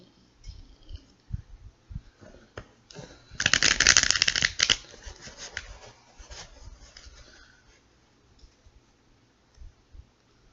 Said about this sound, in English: we got 3 more shuffles after this one